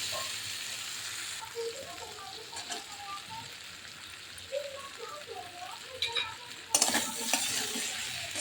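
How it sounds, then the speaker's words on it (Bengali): Potato pieces frying in a pan with chopped onion tossed in, a soft continuous sizzle broken by scraping stirs and light utensil knocks that grow louder and clatter toward the end. "এবার এর মধ্যে দেব পেঁয়াজ কুচি।"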